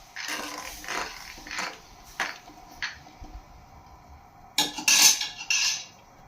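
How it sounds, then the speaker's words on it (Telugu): A spoon stirs cooked dal into a tomato mixture in a metal pot, producing irregular clanking and scraping strokes with quiet gaps and a louder cluster near the end. "పప్పు వేసి మొత్తం బాగా కలిసేలాగా ఒకసారి బాగా కలుపుకోవాలి"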